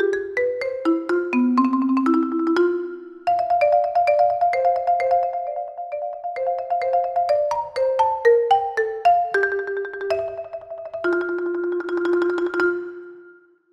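A solo marimba phrase rings out alone, mallet notes stepping through a melodic line before the piece closes on sustained tremolo rolls that swell into a final crescendo.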